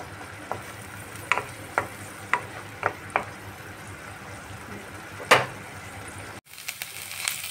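Ground spice paste being stir-fried over low gas flame for a spicy snakehead fish curry, a soft sizzle under a series of sharp spatula scrapes and knocks against the pan, close and alone.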